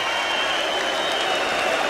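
An arena crowd cheers and applauds after the WBA featherweight champion Leigh Wood wins by TKO, a dense, loud, continuous roar of clapping and voices.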